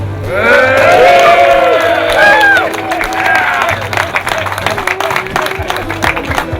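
A lively crowd cheers and calls out with overlapping voices, then scattered clapping breaks out and carries on steadily.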